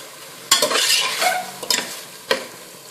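Onions and tomatoes sauté in a pan for intestine curry, sizzling under sharp scraping stirs of a spoon against the pan, close up.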